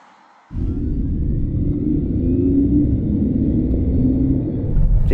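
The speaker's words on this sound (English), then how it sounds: "Because not only does it make electric sporty sound on the inside of the cabin, it also emits it on the outside" A Mercedes-AMG GT63 e-Performance accelerating from about 80 km/h, playing its synthetic exterior drive sound, which comes in abruptly as a loud, steady low rumble with a faint rising whine, close by.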